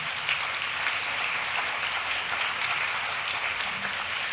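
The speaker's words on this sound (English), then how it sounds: "So let's just uplift that and applause" Sustained audience applause at a symposium, a dense, steady wash of many hands clapping together at an even loudness for the full length without pause.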